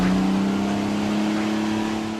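Modified 1989 Holden VN V6 manual Commodore street car engine revving, a loud close steady drone with a strong low hum that eases slightly at the end.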